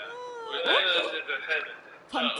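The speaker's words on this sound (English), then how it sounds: "The cat." A cat meows in a few drawn-out, wavering cries, a longer one followed by a short pause and a second call. The sound is close and fairly clear, with some background noise.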